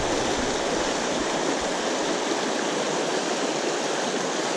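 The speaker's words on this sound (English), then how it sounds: "we're just showing you a little bit of footage of one of these creeks in New York" Creek in New York flowing during salmon fishing, a loud, steady rushing wash of water heard close and unbroken, with no voices.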